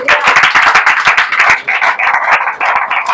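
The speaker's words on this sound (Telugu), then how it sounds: "చప్పట్లు కొడదామండి" A church congregation claps loudly and steadily during a sermon, dense rapid hand claps filling the space without pause, close and energetic.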